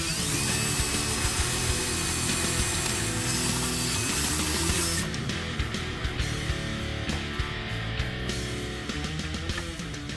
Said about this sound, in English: we'll drill the holes and we'll put it back in